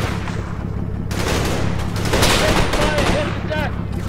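Rapid gunfire pours into a building in the Combat Mission Market Garden wargame, dense bursts of shots rattling continuously with someone speaking over them.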